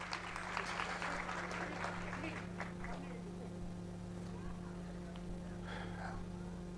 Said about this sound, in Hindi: जोरदार तालियों के साथ में आप लोग अभिवादन करें।